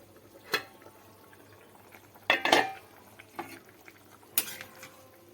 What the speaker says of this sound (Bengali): এবার আমি ঢাকা দিয়ে দেব, যতক্ষণ না পর্যন্ত এটা ফুটে যায় ততক্ষণ অপেক্ষা করব।